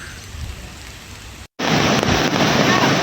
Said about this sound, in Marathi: सिंधुदुर्ग जिल्ह्यात आज पावसानं दमदार हजेरी लावली